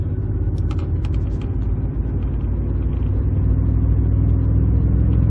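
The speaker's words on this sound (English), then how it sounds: "So I'm putting my foot into the floor, and I'm trying to gain speed without dropping a gear." A Ford F-150 pickup with a six-speed automatic transmission accelerates at full throttle, giving a steady, loud low engine drone and rumble heard from inside the cab that builds slightly over several seconds, with no talking.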